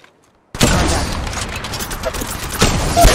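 Apex Legends Mobile gunfire erupts suddenly after a moment of silence, a dense, loud volley of rapid shots with a second burst near the end.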